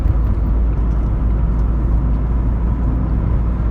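A 1984 Mk2 Vauxhall Cavalier on the move, heard from inside as a steady low engine drone and road rumble. There are no distinct changes and no voices.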